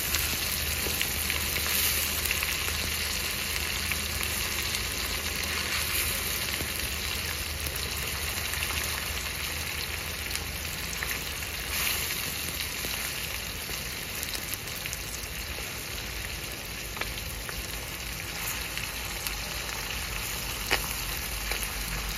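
Chicken pieces frying in hot oil, a dense continuous loud sizzle that holds steady throughout, close up with no voices.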